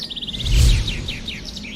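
Birdsong in the Spider-Man Symbiote Echoes video game: rapid, bright chirps in quick repeated bursts, close and clear, over a low rumbling thud midway through.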